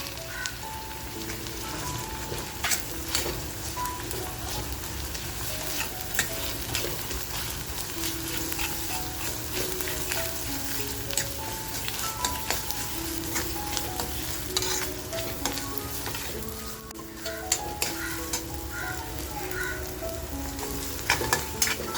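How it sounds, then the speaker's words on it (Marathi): Onion and homemade masala sizzle in hot oil for a village-style vazdi masala, with a spatula stirring and scraping steadily through a constant, close frying hiss and no talk. "आपला मसाला सुद्धा असा मस्त खमंग फ्राय झालेला आहे"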